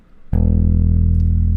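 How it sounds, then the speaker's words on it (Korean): Single bass guitar note plucked near the neck, a sudden attack after a brief quiet moment, then a full, steady low tone ringing on alone and up close. "넥 쪽에서 피킹을 해보자면"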